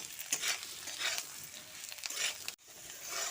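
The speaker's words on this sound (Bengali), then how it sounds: "নুন ও হলুদটা দিয়ে শিমো আলুর সঙ্গে ভালো করে মিশিয়ে নিচ্ছি" Potatoes get stirred with salt and turmeric in a pan, with a soft continuous scraping and light sizzling, close up and with no talk, including a brief pause near the end.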